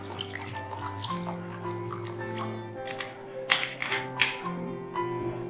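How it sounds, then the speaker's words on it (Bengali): Cold water pours into a blender jar while making a raw mango sherbet, a soft, continuous trickle with light splashes and drips close by, no talk. "আমি একটু ঠান্ডা জল এর মধ্যে অ্যাড করছি।"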